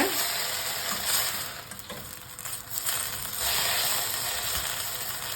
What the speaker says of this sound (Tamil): இப்போ இது எல்லாத்தையும் வதக்கிக்கோங்க.